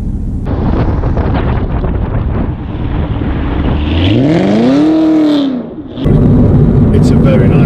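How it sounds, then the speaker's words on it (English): A Chevrolet Camaro ZL1 V8 exhaust roars loudly, rising sharply in pitch as the car accelerates hard, then cuts off briefly before the engine note resumes, with heavy wind buffeting on the microphone. "It's a very nice sounding exhaust, but it could be louder."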